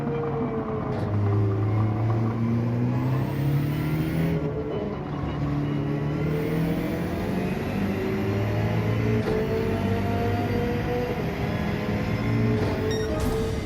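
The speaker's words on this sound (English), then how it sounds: "It's a BLZ behind me," Engine of a BLZ car following close behind in a racing video game, a steady revving drone with rising and falling pitch sweeps as it accelerates and shifts, loud and continuous with no talking.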